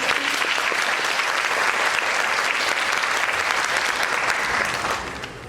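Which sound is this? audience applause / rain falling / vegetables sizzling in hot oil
audience applause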